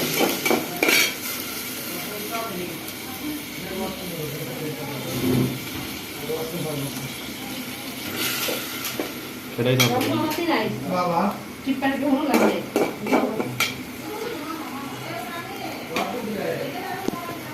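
Pigeon frying in a pan with blended ginger, onion and garlic paste, with sizzling, stirring and utensils clinking against the pan throughout while someone talks over it.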